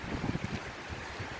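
Strong outdoor wind buffeting a microphone, uneven low rumbling gusts and thumps that rise and fall over the short stretch, no voice present.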